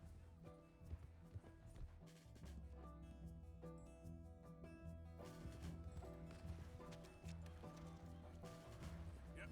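Horse hooves clip-clopping in the video game Red Dead Redemption 2, a steady run of hoofbeats under continuous game music and ambient sound.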